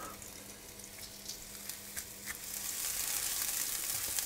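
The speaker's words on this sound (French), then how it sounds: "on va faire chauffer la pâte de curry pendant 1 minute à peu près" Curry paste frying in a hot pan gives a steady sizzle that builds and brightens over the second half, with faint scraping and stirring touches early on and no talking.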